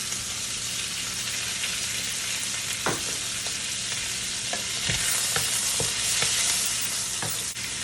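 Shrimps fry in a pan with a loud, continuous sizzle while a utensil stirs them, giving a few scraping knocks against the pan over the hiss.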